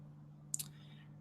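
A computer mouse gives a quick double click, close and faint over a steady electrical hum, with no other sound around it.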